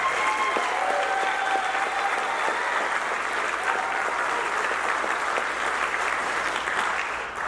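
Sustained applause from a school concert audience for a high school band performing live in a gymnasium, a dense, steady wash of many hands clapping throughout, loud and continuous with faint voices and whoops mixed in.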